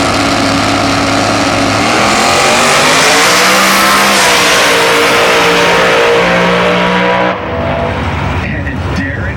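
A supercharged small-block Ford Fox-body drag car roars down an eighth-mile strip, its engine screaming loud and sustained at full throttle before the note cuts and fades as it lifts off near the end.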